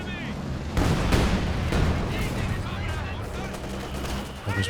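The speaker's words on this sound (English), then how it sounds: "big Zis barrage." A ZiS gun artillery barrage in the Company of Heroes 2 video game, with a rapid volley of booming shots and crackling impacts that sustain loudly for several seconds and then trail off.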